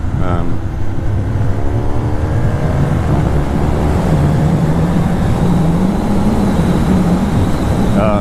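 A motorcycle engine droning steadily while riding, loud and close with wind rush and a shifting pitch as the revs change, with someone talking over it.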